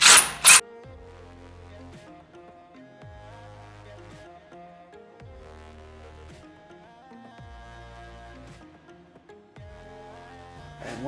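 Hose clamps are backed out during a cam kit installation with a flathead screwdriver or 5/16 socket, giving quiet, repeated mechanical ratcheting turns in even bursts, after two brief louder knocks at the start.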